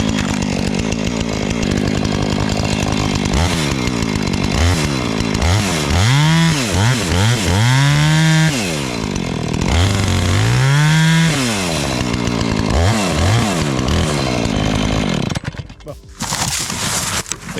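A chainsaw felling a tree runs loud and close, its engine revving up and down in repeated rising and falling sweeps for most of the stretch, then cutting out near the end.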